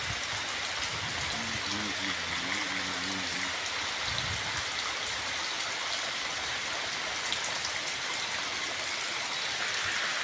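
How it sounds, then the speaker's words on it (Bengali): Steady rain falls during a Kalbaishakhi storm at the start of Boishakh, a continuous close hiss of drops lasting throughout, with a brief voice faintly in the background early on. "বৈশাখ মাসের প্রথমে বৃষ্টি।"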